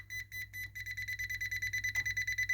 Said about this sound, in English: If I move closer, it starts beeping quicker